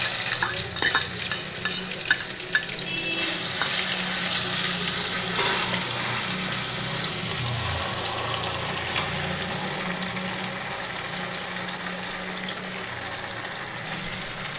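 Ground ridge gourd ingredients fry in hot oil with a steady, close sizzle and crackle, broken by occasional stirring scrapes, with no talking.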